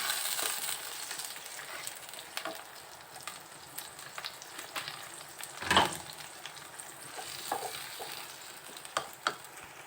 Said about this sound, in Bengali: মশলাটা এবার মিক্স করি।